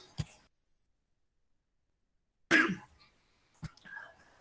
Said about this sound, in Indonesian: Bapak batuk nih kayaknya